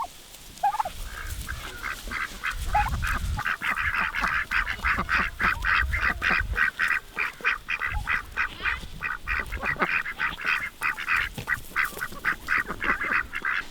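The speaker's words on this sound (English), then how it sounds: "those guys are my Welsh Harlequin ducks" Welsh Harlequin ducks free-ranging outdoors quack over and over in a fast, steady chorus close by, with a couple of softer calls at the start before the flock gets going.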